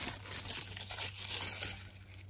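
A McDonald's Despicable Me 4 Minions Happy Meal toy being unwrapped, close, crinkly tearing of its plastic packaging in a short continuous burst.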